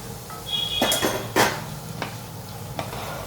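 A spoon stirs spices into mogri cooking in a pan, giving a few sharp metallic scrapes and clinks against the pan over a low background hiss, with no talking.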